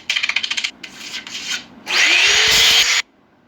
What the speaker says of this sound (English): I'm gonna go ahead and sand him all over, that way he has a nice smooth finish